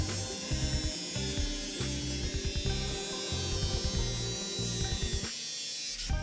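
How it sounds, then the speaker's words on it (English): A cutoff wheel grinds through the aluminum fender of a 2017-2018 Ford Super Duty truck with a high, steady whine and a rough, buzzing rattle. It is close and loud, with no talking. "Using the cutoff wheel, start your cut from the bottom of the chalk line and follow through to the top."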